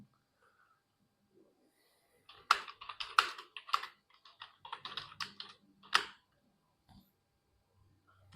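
Typing on a computer keyboard: a quiet room, then a few seconds of clustered key clicks in uneven bursts, close and fairly soft, fading back to near silence.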